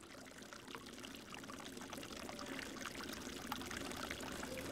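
Water pouring and trickling steadily through a home aquaponics setup that recirculates water between fish tank and plant beds, a continuous close splashing flow with no talk.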